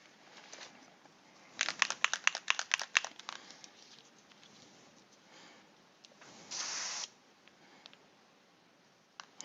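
Aerosol spray paint hissing onto Star Wars clone figures, a run of short rapid bursts followed by one longer steady spray, fairly quiet and close.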